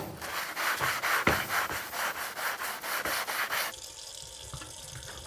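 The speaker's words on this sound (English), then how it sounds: "I'm not putting much pressure on this at all, just lightly scrubbing it." Teak wood on a boat is scrubbed lightly with a brush in quick rhythmic strokes, a brisk rasping swish repeated about a dozen times, then stopping and leaving a quiet background.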